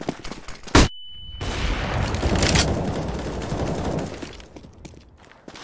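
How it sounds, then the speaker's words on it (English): A flashbang grenade goes off in the game CS:GO, with a sharp bang followed by a brief ringing tone and a rumbling wash of noise that lingers for a few seconds amid distant gunfire. "Throwing flashbang."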